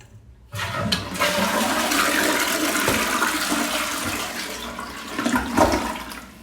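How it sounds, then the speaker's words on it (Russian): A US-style toilet flushes loudly after a brief silence, water rushing and gurgling steadily for several seconds before swirling and draining. "новая вода набирается только в бачок и в чашу унитаза. Продемонстрирую это."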